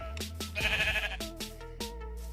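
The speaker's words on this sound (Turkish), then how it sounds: "Koyun var çiftlik yapabiliriz bak." Minecraft sheep bleating in a blocky game world, several short harmonic baas in quick succession, close and clear with no talk over them.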